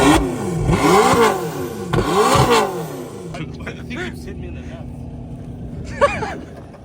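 A truck with a loud exhaust setup revs hard twice, then drops to a rumbling idle while people talk nearby at a car event with spectator drag racing.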